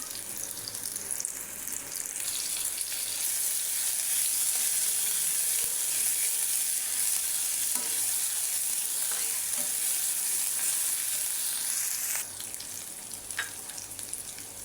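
Garlic sizzles steadily in hot oil alongside taro stolons and dried fish, a dense continuous frying hiss with a few faint scrapes of stirring, close and fairly loud throughout, no voices.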